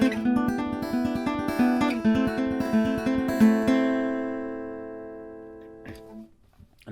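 Country fingerstyle guitar in banjo-roll style, a fast even run of picked notes for about three seconds, then a held chord fading out, close and soft, with a faint handling knock near the end.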